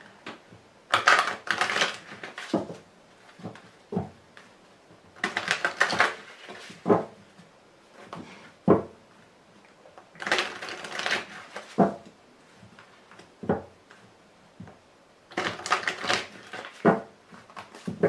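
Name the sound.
tarot cards being handled to cover the deck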